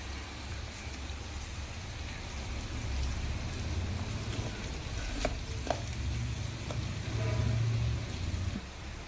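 Fish frying in a pan gives a steady, close sizzle with a faint crackle that holds evenly throughout, broken by a couple of brief clinks.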